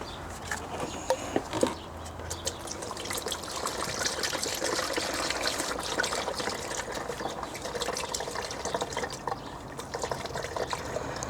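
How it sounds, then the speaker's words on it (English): Brand-new antifreeze poured through a funnel into the radiator of a Lexus GX460, a steady close trickle of liquid running for several seconds with a few faint clinks. "we're going to take our brand new antifreeze and we're going to fill it up to"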